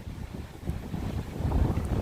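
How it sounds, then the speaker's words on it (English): Strong wind buffets the microphone at the Presque Isle lakeshore, spray-laden gusts roaring low and rough, building in force toward the end with no voices. "I know it's awfully windy out here"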